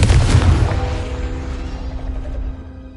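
A Confringo blasting spell explodes in the Hogwarts Legacy video game: one loud, deep boom that rumbles and fades over a few seconds, with a ringing tail.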